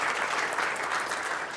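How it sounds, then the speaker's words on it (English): An audience at a football event gives sustained, steady applause that fills the whole brief moment. "Give Gary a warm round of applause, please"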